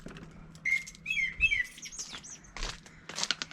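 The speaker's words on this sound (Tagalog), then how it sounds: "Daming ibon na sa taas." Many birds chirp and tweet overhead near a lake, with several overlapping whistled calls and quick chirps in bursts, moderately faint, with some low outdoor rumble.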